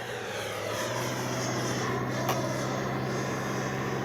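An FMS Avanti S 90mm RC jet flies low overhead, its steady, high-pitched ducted-fan whine continuous and fairly loud throughout.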